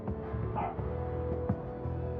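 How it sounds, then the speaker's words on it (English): A neighbour's dog barks faintly in the background, its short yips and woofs carrying from a distance indoors. "if you hear a dog in the background, that's not the game, that's my neighbor's dog"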